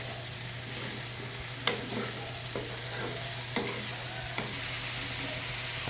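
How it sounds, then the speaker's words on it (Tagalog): A spatula stirs sautéed vegetables in a hot pan, scraping and clinking a few times against a steady sizzling hiss under a low hum. "Halo-haloin lang."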